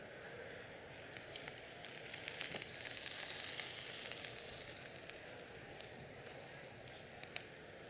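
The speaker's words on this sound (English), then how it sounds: "we saute a little bit of our green beans then" Green beans sauté in extra virgin olive oil in a pan, giving a steady sizzle and frying crackle that swells in the middle and eases off, with faint scattered pops and no talking.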